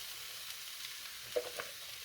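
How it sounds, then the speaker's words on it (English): White onion, tomatillo and jalapeño sautéing in a pan give a faint, steady sizzle with a couple of soft clinks from stirring. "we're going to start sauteing up our vegetables. We've got our white onion, tomatillo,"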